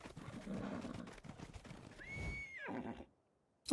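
Horse whinnying in a video game, a rising, wavering neigh at close range over a bed of clip-clop hoof sounds and rustle, cutting off to near silence before a sharp final noise.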